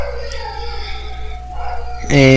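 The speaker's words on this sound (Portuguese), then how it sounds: "tem uns cachorros aqui" Dogs howling and barking in the distance, a long wavering howl sliding in pitch followed by a louder, sharper burst of voice at the end, over a low steady hum.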